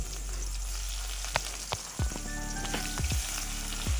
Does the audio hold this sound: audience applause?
no